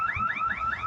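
A construction site alarm in Torrance wails with a loud, steady electronic warble, its pitch sweeping up and back down in quick repeating cycles with no pause.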